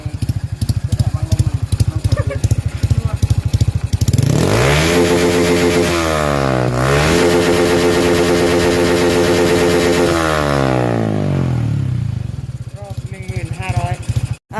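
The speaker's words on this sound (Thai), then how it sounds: "มาลองเร่งดู เร่งดูรอบมันสิหอเร่งหน่อย" A tuned motorcycle engine, set to cut out at 10,500 rpm, idles with a fast uneven putter, then revs hard twice in long rising-and-falling sweeps before settling back to a choppy idle, loud and close.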